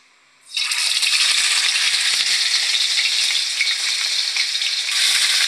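Tulingan fish fries in hot oil in a pan, a loud, close, dense sizzle that erupts suddenly and holds steady without talk.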